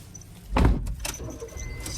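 A car door swung shut from inside, one solid thud landing at mid-clip, followed by light rustles and small clicks as the occupant settles in.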